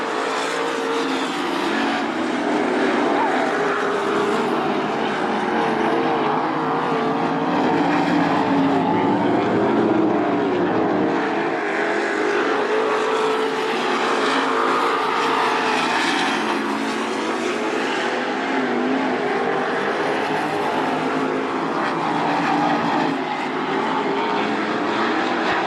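305 sprint cars in a heat race on the dirt track at Attica Raceway Park roar continuously, engines rising and falling as the pack passes, loud and unbroken for the whole stretch.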